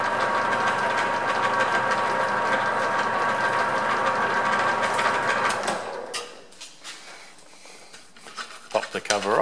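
A Field Marshall tractor engine idles with a steady, loud, rhythmic chugging for about six seconds, then drops away, leaving quieter clatter and handling noises.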